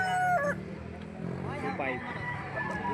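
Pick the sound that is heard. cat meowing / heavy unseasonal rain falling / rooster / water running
rooster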